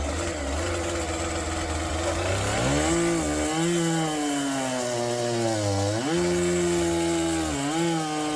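A Stihl 461 chainsaw bucks cherry firewood into turning blanks, its engine loud and close with a steady high whine that rises and dips as the chain bites into the wood and eases off, with no talk throughout.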